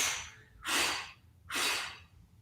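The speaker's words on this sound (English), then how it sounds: "And blowing the cake 3 times." Children in a live kids' yoga class blow out forcefully, as if at candles on a cake. Two long whooshing exhalations stand out about a second apart, with a fading breath at the start.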